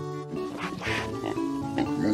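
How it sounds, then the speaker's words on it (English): Pig bred for meat on a farm, grunting and oinking in a few short, nasal snorts over about two seconds, fairly close and moderately loud with no speech. "Pig. Pigs are breeded for meat."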